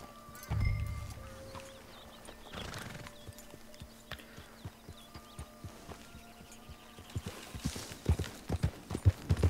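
Horse hooves clip-clopping in Red Dead Redemption 2, a steady run of hoofbeats that grows louder and quicker toward the end, with a whinny early on and game music and ambience underneath.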